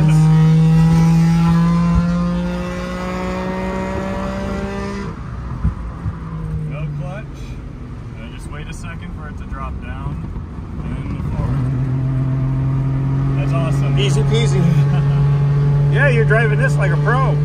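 A modified 1961 Saab 96 drives and accelerates, its engine note climbing through the gears in steady rising tones, heard from inside the car while people talk over it.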